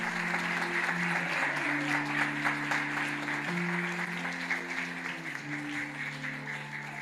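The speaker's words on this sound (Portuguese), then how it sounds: "Pode dar uma salva de palmas" A church congregation applauds steadily during a sermon, the crowd's clapping running throughout over sustained organ or keyboard tones.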